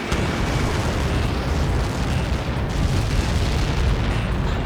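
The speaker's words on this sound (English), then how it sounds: "How many got caught in that explosion?" A massive explosion impact from Helios projectiles in the video game Ace Combat 7 fills the whole clip as a dense, sustained roar and rumble, loud and close, with no talk.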